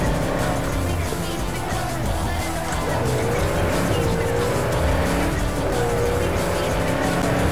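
A car in Cyberpunk 2077 roars at speed with a loud, steady engine drone while its tires squeal repeatedly through turns. The sound is continuous and close.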